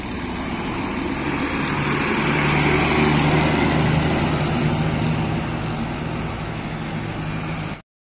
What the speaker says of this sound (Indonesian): Melintas bus City Miles.